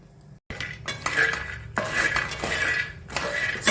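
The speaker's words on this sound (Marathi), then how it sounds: "भाजी कडाम कडाम आवाज यायला लागला" Cashews and vegetables roasting and being stirred in a home kitchen pan, giving near, steady clinks and scrapes of a utensil against metal with dry crackle, broken by a brief silence and a few sharp knocks.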